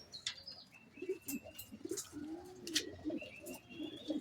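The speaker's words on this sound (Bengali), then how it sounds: "মাদা পায়রা, যেটা এখন ছাড়লো নেদারল্যান্ডের" Racing pigeons, including a Dutch-bred hen, coo softly and repeatedly while wings flap in short bursts. Thin bird chirps come and go over a quiet background.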